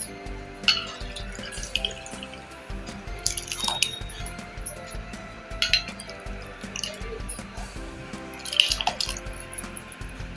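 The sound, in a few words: pouring cucumber water into batter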